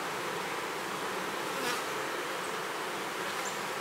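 Honey bees buzz densely and continuously at close range as a hive is opened for inspection, a steady loud swarm drone with occasional individual bees passing near.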